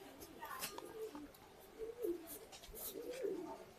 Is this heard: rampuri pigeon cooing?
yes